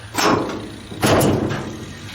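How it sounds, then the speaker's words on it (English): Door of a rusty 1956 chop-top oval-window VW Beetle being swung shut twice, two close metallic thumps about a second apart, each with a brief rattling tail. "Alright, see how this door fits."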